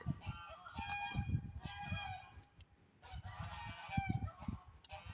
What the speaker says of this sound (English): I hear the geese getting wound up.